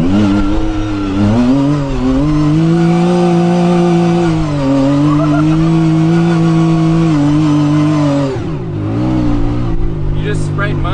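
A car revs hard in a long sustained whine that sweeps up and down, spinning its tires and spraying mud close by, then the engine note drops sharply near the end; voices are heard around it.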